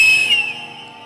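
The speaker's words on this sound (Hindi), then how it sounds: "बोलो सारे सीटी बजाओ आज" A single loud, shrill whistle blast rings out at a prayer meeting, held briefly and then fading as it trails off, with no talk over it.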